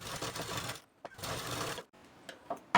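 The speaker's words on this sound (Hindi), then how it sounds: "बेल्ट पर डबल लाइन पे हमें टॉप सिलाई लगानी है" A sewing machine top-stitching a double line along a blouse belt runs in two bursts of steady whirring, separated by short pauses and followed by a few faint clicks.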